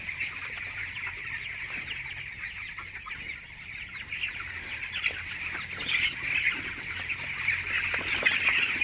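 Chickens in a poultry farm shed, a steady dense chorus of clucking and squawking birds close by, gradually growing louder with scattered sharper calls, no talking.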